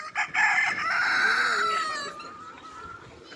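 A rooster crows once, a loud drawn-out call close by that trails off, with faint background noise after.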